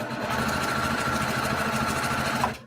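Sewing machine stitching quilt binding, a steady fast mechanical whirring and rapid needle chatter running continuously at close range, loud and alone, stopping abruptly at the end.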